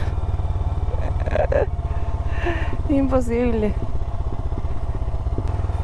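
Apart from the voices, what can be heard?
motorcycle climbing a steep road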